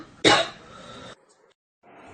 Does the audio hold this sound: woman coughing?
yes